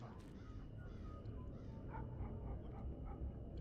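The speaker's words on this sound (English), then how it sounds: "That was a dog." A dog barks in the stealth game Thief Gold, a few distant yips and barks faintly mixed into low ambient game background noise with no talking.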